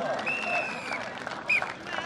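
A crowd claps and cheers at an outdoor kabaddi tournament match for the Gujjar Kabaddi Club, a steady burst of applause with a loud commentator talking over it.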